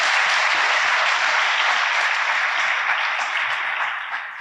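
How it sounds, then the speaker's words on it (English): Sustained audience applause at a St. Louis workforce report event, dense and steady throughout, slowly tapering toward the end with no talking over it. "can we give them a round of applause for the great job they're doing?"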